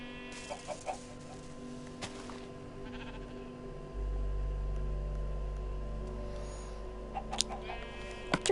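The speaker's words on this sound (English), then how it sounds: "We are now going to spawn in a bunch of chickens." Chickens spawned in a farm-building video game cluck and bleat-like squawk in scattered calls over a steady low hum, with a louder rumbling drone joining midway.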